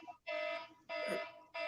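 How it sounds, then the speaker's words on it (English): A phone alarm goes off in repeated steady electronic beeps, three loud sustained tones separated by short gaps, with faint voices underneath. "I think you got an alarm going off"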